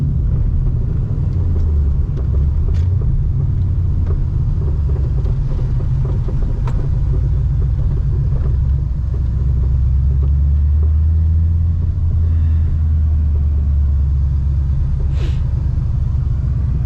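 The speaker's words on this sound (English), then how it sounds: "I'm about to drive through this Walmart right now." A 1996–2004 Ford Mustang with a swapped-in Coyote V8 drives through a Walmart lot, giving off a loud, continuous deep rumble that stays steady throughout.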